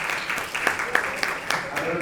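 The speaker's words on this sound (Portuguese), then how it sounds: "Por favor, uma salva de palmas para a nossa mesa." Steady round of applause for a round-table panel at an academic event, moderately loud with a few sharper individual claps standing out, and a voice speaking over the clapping.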